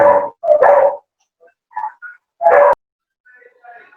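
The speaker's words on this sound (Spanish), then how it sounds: "Bueno, hay un perro por ahí." A dog barks nearby in three short, loud bursts, two close together and then one after a pause, with quieter sounds between them.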